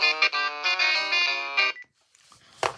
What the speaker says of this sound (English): jazz, which is basically why I bought this phone, so I could have jazz as the ringer